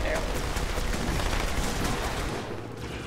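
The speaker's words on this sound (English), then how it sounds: "Look, I just emptied two SMGs into them." Sustained, dense SMG gunfire from the video game Halo 2, a continuous loud rattle of rapid shots that fades slightly toward the end.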